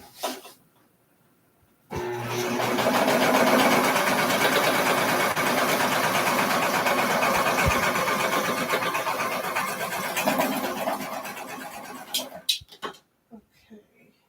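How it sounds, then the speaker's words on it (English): A serger runs steadily as fabric feeds through, stitching a garment seam with a dense whirring drone for about ten seconds, starting abruptly and stopping with a few clicks near the end. "I'm just running that through my serger."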